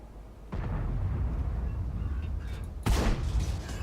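Chinese tank destroyer guns fire in World of Tanks, tiers 5 to 7, as loud booming blasts with a sustained rumble between them and a second sharp explosive crack near the end.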